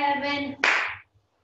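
One close, crisp hand clap rings out right after a short spoken count in a Pilates class, then decays quickly into silence.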